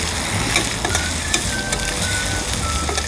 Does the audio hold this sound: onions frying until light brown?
yes